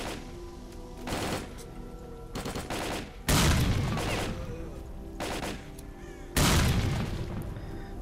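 Gunfire and heavy grenade blasts in S.T.A.L.K.E.R.: Call of Pripyat, with rapid bursts of shots and two deep, loud explosions rolling out amid a steady battle din, no talking.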